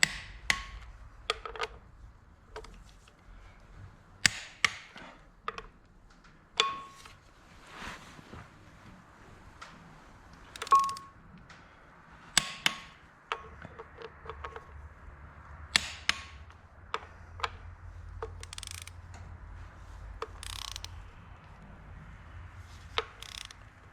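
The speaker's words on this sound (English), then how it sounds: "So I got the torque wrench set on 70 now." A torque wrench tightens flywheel bolts on a Minneapolis Moline A4T 1600 tractor in a quiet shop, with scattered sharp clicks and metallic ratchet ticks separated by pauses, close and fairly faint.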